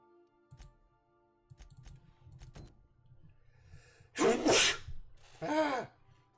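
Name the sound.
sneezing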